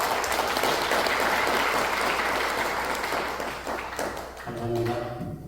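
Warm, sustained applause fills a church retreat hall as an audience welcomes a pastor to the lecture, steady clapping that thins and fades toward the end with a faint voice starting up.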